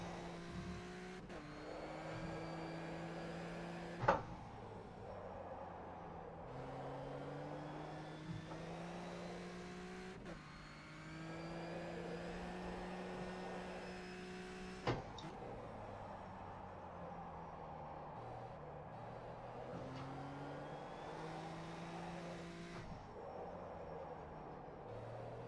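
Racing video game car engine revving hard through a lap, rising pitch sweeps repeatedly climbing then dropping at gear shifts, with occasional sharp clicks, fairly quiet and steady with no talking.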